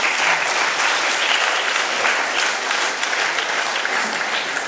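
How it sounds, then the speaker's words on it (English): An audience at a school Founder's Day prize-giving ceremony claps in a dense, loud, sustained round of applause that holds steady for several seconds. "They deserve a round of applause."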